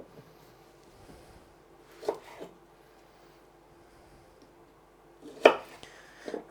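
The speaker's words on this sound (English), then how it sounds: "I have some Brussels sprouts that I'm just going to clean real quick and cut in half" A knife cuts Brussels sprouts in half on a cutting board, giving a few sharp, isolated chops with quiet gaps between them, close and fairly faint.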